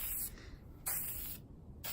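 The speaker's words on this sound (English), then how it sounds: "I'm gonna stand back here away from that spray." Nitrocellulose lacquer clear coat sprayed onto a guitar body, two sustained hissing bursts from a spray gun separated by short pauses, fairly close and steady.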